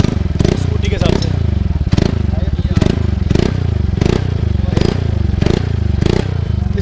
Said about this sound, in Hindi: R1M ये डबल बैरल में है, इसको भी सुन लेते हैं कैसा है एक बार